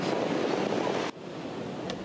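High surf crashes onto Suwuk beach with a loud, steady roar, mixed with wind buffeting the microphone, easing briefly midway.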